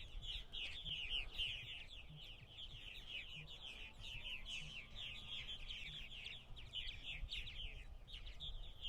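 Purple martins gathering at an evening roost on eastern Long Island, New York, in late July, a dense, continuous chorus of high chirps and twitters from many birds at moderate distance, steady throughout with no voices.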